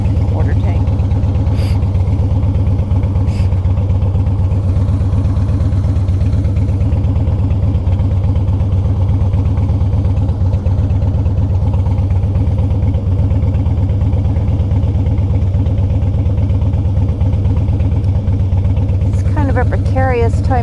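A motorcycle engine drones steadily with constant road and wind noise throughout a ride near the suburbs at dusk, a loud unbroken rumble with a rider's voice talking over it.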